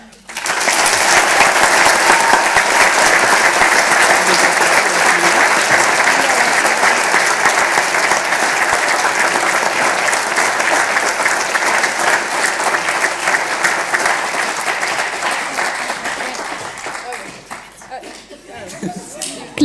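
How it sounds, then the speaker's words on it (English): Loud, sustained applause from a conference audience for Junior MUN delegates at a model UN closing ceremony, a dense continuous roar of clapping lasting nearly twenty seconds before thinning out at the end. "give the delegates of the Junior MUN such a loud round of applause"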